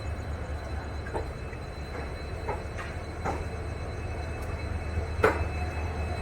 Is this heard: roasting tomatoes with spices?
no